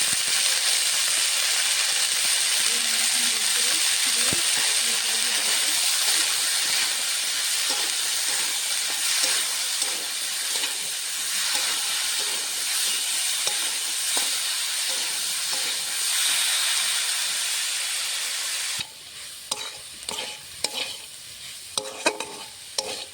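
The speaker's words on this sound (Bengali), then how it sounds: "পুঁই শাকের বিচি ভাজা হওয়ার মধ্যেই" Malabar spinach seeds and fruit sizzle in hot oil with salt and green chillies, a steady close hiss broken by stirring scrapes that turn into sharper, intermittent clinks near the end.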